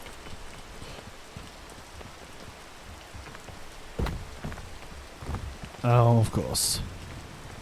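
Steady rain patters in the video game PEAK under a brief spoken remark, joined by a few louder thuds and a short tonal chime near the end.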